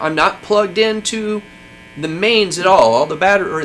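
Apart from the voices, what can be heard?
None of the usual background noises is heard.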